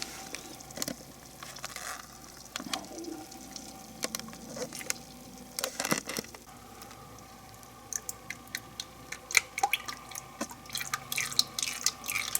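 Old gear oil draining from a DeLorean gearbox, heard as faint, irregular drips and small taps into a catch pan that grow slightly busier toward the end, in a quiet garage.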